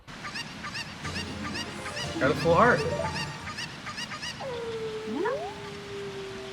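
Squawking chicken calls from Zelda: Ocarina of Time rise over steady game ambience, loudest midway, with a person talking over part of it and a rising electronic game tone near the end.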